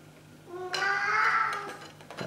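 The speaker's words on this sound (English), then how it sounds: "That's my cat, who's decided he wants to play." A house cat, wanting to play, gives one drawn-out meow lasting about a second, close and fairly clear over a quiet indoor background, with faint clicks around it.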